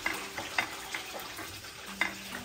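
Tacos frying in hot grease give a steady, faint sizzle broken by soft scraping and stirring clicks, with no voices.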